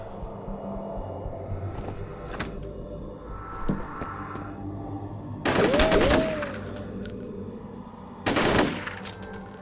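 Video game gunfire on a hospital level as a vent is shot: two loud bursts of rapid fire, a longer one in the middle and a shorter one near the end, over a murmuring game background.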